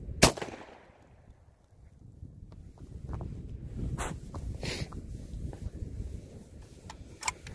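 Shotgun fire outdoors in bitter cold: one loud sharp blast near the start, then scattered fainter cracks and pops over steady wind noise.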